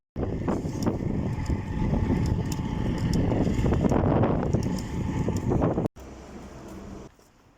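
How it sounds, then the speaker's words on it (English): Wind blowing hard on a windy day while cycling, a continuous loud rush of wind noise buffeting the microphone for several seconds before dropping off abruptly near the end. "Windy day."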